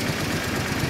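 A Yamaha DragStar 400 Classic motorcycle engine idles close by, its exhaust a steady, even low thrum with a faint pulsing beat, heard alone and at constant loudness.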